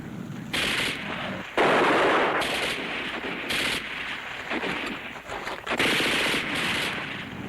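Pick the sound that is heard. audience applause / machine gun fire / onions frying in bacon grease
machine gun fire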